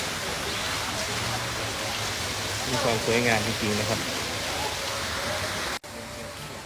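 Rushing water from a waterfall at a Thai temple cave site, a steady broadband roar that runs throughout while someone talks over it.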